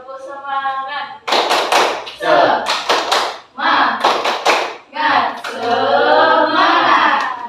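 Students do a rhythmic 'tepuk semangat' clapping routine in a classroom, with patterned bursts of claps running alongside group chanting voices.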